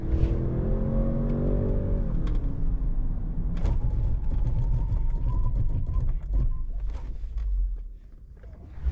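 A 2023 Range Rover Sport with Brembo brakes decelerates hard from 100 km/h, its loud engine and road roar steady under faint clunks before the noise drops away near the end.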